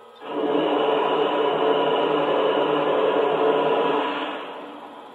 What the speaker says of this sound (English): Here is the steam blowdown sound.